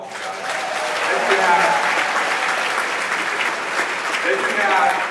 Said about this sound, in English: Give her a round of applause, you